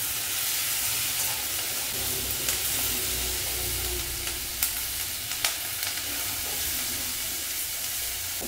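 Cubed capsicum and onions sizzle steadily in a hot pan, a dense, even frying hiss with a few small pops and crackles throughout.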